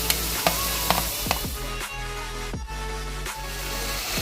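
Green chillies and tomatoes frying in a pan over a medium flame for moong pulao, giving a steady, close sizzle with several scraping stirring strokes spaced through it.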